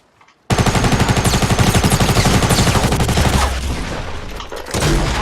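Heavy shotgun and other weapons in a Fortnite Battle Royale match, a sudden loud barrage of rapid gunfire kicking in and rattling continuously, dense and close, with no voices over it.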